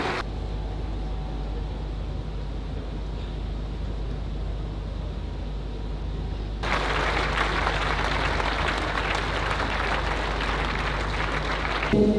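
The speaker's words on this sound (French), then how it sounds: "accompagné par Madame Laurence Azomoro, je vous invite à les accueillir chaleureusement par vos acclamations" A large crowd applauds steadily throughout, growing louder and fuller partway through, a dense wash of clapping with no voices on top.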